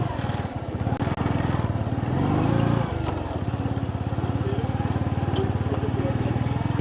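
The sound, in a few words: motorcycle taxi (boda boda) ride on village road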